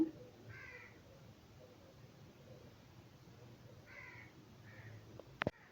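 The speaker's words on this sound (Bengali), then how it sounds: "আমার বাসার কাছে যেহেতু আম গাছ আছে তো কাক ডাকতেই পারে" Crows near a mango tree outside a home give a few faint, distant caws against quiet room noise, followed by a short sharp knock at the very end.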